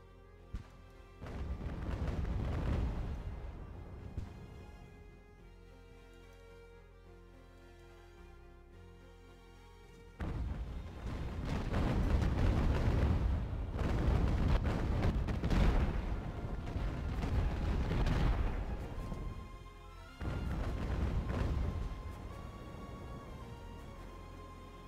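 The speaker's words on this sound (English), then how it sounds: "Oh, it's a mortar." Mortar fire in the naval battle game Ultimate Admiral: Age of Sail, with heavy booming blasts in three loud bursts around a low rumbling cannonade, set over a sustained musical score.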